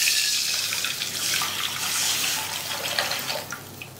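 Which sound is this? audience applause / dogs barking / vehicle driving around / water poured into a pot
water poured into a pot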